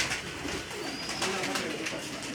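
Pigeons kept in a loft setup, cooing softly and continuously at a moderate distance over a steady background hum, with no voices.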